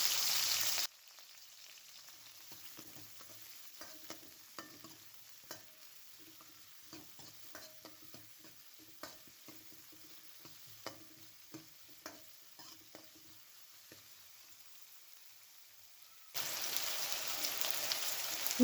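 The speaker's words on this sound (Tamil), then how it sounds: "அதையும் சேர்த்து எண்ணெயிலே நல்லா வதக்கிக்கிறேன்" Shallots and curry leaves fry in oil in a pan, a faint crackle with scattered light pops and stirring taps, close and quiet, no talk.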